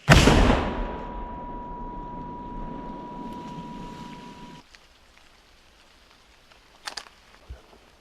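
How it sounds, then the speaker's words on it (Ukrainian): A single loud gunshot cracks out at the start on a frontline battlefield and its rumble slowly fades away, followed by quiet with a couple of faint distant thumps. "Постріл!"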